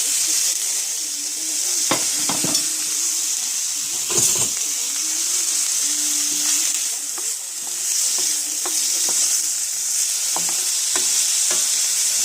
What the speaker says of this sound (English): We have some oil in the skillet, and we're stir frying the veggies.